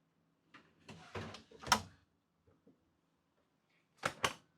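The bottom drawer freezer of a Norcold residential-style fridge in a Dynamax Europa 34SS motorhome slides and thuds in a few short bursts, with quiet pauses in between.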